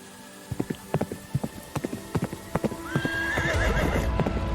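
Hooves clop in an uneven rhythm on hard ground, followed by a horse's loud whinny near the end, with more clattering steps underneath.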